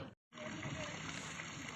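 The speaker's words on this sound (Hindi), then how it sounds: "बिना मोटर के पानी पहाड़ों से एक ग्लेशियर से होते हुए डायरेक्ट पानी आ रहा है" Glacier meltwater running straight down from the mountains without a motor pours steadily from a tap at a high mountain stop in Ladakh, near and continuous after a brief silent gap.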